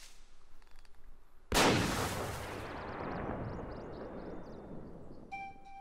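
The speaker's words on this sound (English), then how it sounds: "And his gun is loud." A single loud gunshot blast from a hunter's gun in the Kingdom Hearts video game, with a sharp onset and a long rumbling decay that trails off under game sounds and chirps.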